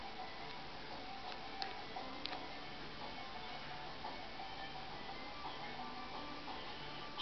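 An antique French Victorian mantel clock with an 8-day movement ticks faintly and steadily in a quiet room, a few slightly louder ticks standing out against low background hiss.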